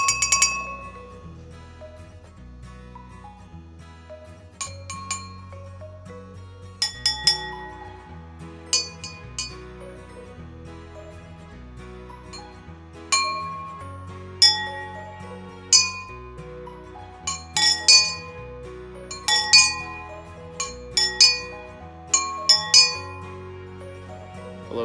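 A spoon taps glasses holding water, ringing out clear pitched clinks in irregular sequences, some single, some in quick runs, each note decaying slowly.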